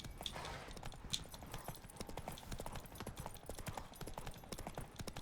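Roach the horse gallops in The Witcher 3, rapid rhythmic hoofbeats thudding steadily up close, with faint ambient game sound beneath.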